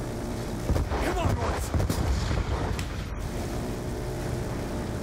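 Explosion in the shooter game Black Ops 2, heard as a dense, loud burst of booming noise amid continuous battle din, with a few sharp cracks and talk mixed in.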